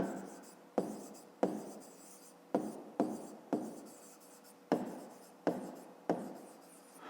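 Handwritten notes for a fifth-grade math exercise, a series of about ten short scratchy pen strokes in an uneven rhythm, close and fairly quiet.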